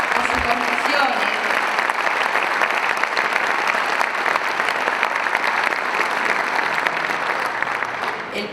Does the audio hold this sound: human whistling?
no